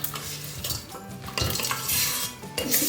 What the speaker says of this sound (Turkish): Limonları da döküyorum içine ezerek aromalarını daha güzel bir şekilde verecekler.